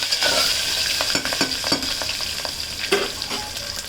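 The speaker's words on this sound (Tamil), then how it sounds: "2 பச்சை மிளகா, உரித்து வச்ச பூண்டு எல்லாத்தையும் சேர்த்து கொஞ்சம் நல்லா வதக்கணும்" Green chilies and peeled garlic sautéing in a pan, a steady frying hiss with scattered scraping stirs and light clinks, close and fairly loud without any voices.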